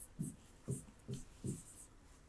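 Math being written by hand, four short scratchy strokes in an even rhythm, close and fairly quiet, with no voice over them.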